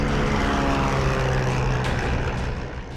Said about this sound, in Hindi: दिल्ली में कृत्रिम बारिश करवाने के लिए कानपुर से स्पेशल विमान सेस्ना ने उड़ान भरी